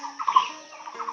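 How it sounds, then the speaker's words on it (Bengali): A single bird perched in a tree gives a brief, clucking call, close and fairly clear against quiet surroundings. "গাছে কত সুন্দর পাখিটা বসে ডাকতেছে।"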